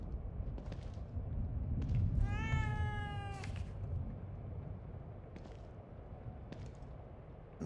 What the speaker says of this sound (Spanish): Un gato.